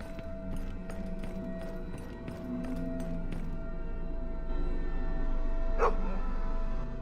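A dog barks in the Game of Thrones RPG video game, giving a run of sharp, evenly spaced barks at moderate distance over a steady droning game soundtrack.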